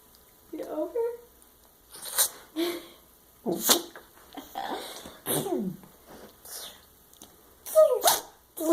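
A Yorkshire terrier sneezes and snorts again and again in short, close bursts spread across several seconds, with brief quiet gaps between them.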